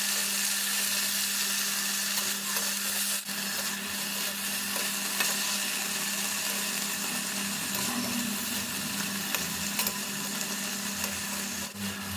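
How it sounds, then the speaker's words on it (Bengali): Rasgulla frying in hot ghee in a karahi makes a continuous, even hiss over a low steady hum. The sound is moderately loud, stays unchanged the whole time and has no talking over it. "দেখছো কিভাবে আমি রসগোল্লাটাকে কড়াইয়ের মধ্যে ভাজছি"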